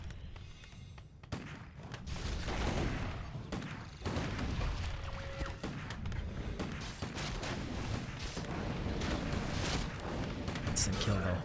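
Mortar team firing on towers during a Warcraft III match with a Mountain King in play, dull booms and thuds of artillery rolling under continuous game noise with a commentator's voice over it.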